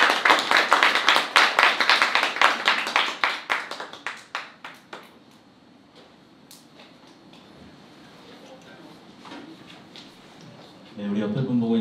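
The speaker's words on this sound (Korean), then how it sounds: "우리 큰 박수로 앞으로 모시도록 하겠습니다" A church congregation at a Sunday service applauds to welcome the pastor, loud rhythmic clapping that thins out and stops after about five seconds, leaving a quiet room before voices resume near the end.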